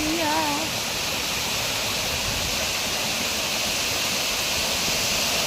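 A waterfall roars steadily and loudly, a dense unbroken rush of falling water filling the whole scene, near the Kaybiang Tunnel.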